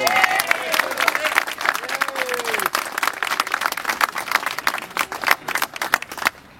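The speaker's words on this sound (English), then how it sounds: "Let's give him a round of applause" Crowd applause at a civic gathering honoring a mayor, a dense wash of clapping with cheers and chatter mixed in, steady for several seconds before tapering at the end.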